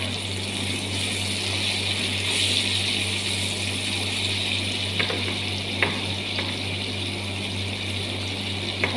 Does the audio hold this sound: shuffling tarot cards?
no